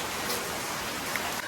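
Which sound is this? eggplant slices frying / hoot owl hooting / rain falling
rain falling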